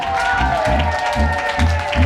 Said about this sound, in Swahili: Mshangilie tena Bwana kwa makofi.